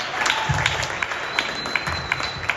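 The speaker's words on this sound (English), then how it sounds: "Give him a round of applause." Audience applause at a comedy show welcoming a guest who will solve a Rubik's Cube, a short, moderately loud patter of clapping with a few sharper accents.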